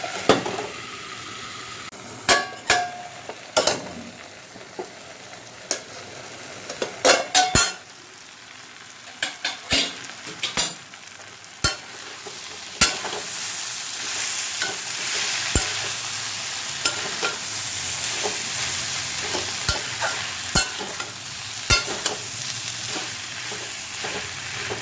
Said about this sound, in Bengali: সব দিয়ে এটাকে নাড়াচাড়া করে আগে একটু ঢাকা দিয়ে রাখবো যাতে সবজিটা নরম হয়